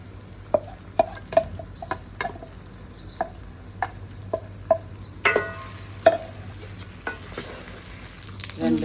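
Rice, one and a half glasses of it, is roasted in a pan with green chillies and coriander for jeera rice, giving a soft sizzle broken by a steady series of sharp scraping and tapping clicks from stirring.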